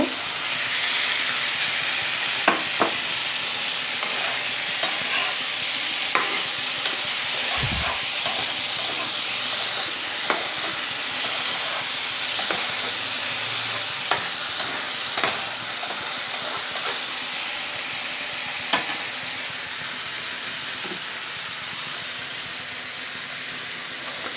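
Fried eggs are added to a pan of cooked spice masala for an egg and brinjal curry, giving a strong steady sizzling hiss with occasional spoon clicks and taps, close and alone without voices.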